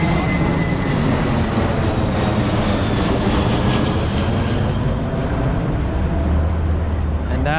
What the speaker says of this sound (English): And that is a plane headed towards LaGuardia Airport.